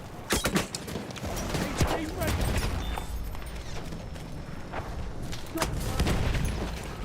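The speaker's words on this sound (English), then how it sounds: "I could still detonate the dynamite when I was already dead" Dynamite and gunfire in Battlefield 1: sharp blasts and a booming detonation cut through a busy game mix, with rumbling explosions and crackling shots, while a voice talks over the action.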